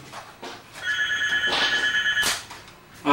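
A telephone rings in a comedy film scene, a bright electronic double ring repeating for about two seconds, loud and close, with a thump at the end and no speech.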